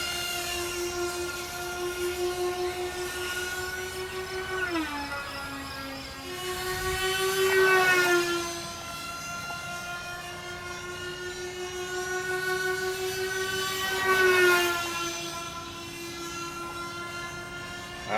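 RC model A-10 jet on its maiden flight, a continuous high whine of electric ducted fans that rises and falls in pitch and loudness with two louder close passes.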